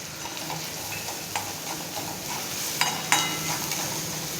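A spoon stirs turmeric and salt through oil in a pan on a low flame, giving a soft steady sizzle broken by a few sharp scrapes and taps against the metal, close up with no talking.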